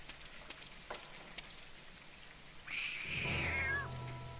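A single cat meows once in the video game Lost Horizon, a clear drawn-out call rising and falling over a soft patter of rain after a quiet stretch of faint ticks.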